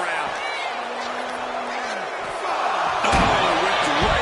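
A wrestler is slammed into diamond-plated steel ring steps at a WWE event, landing as one heavy, sharp metallic crash near the end, with a crowd roaring and a commentator talking throughout.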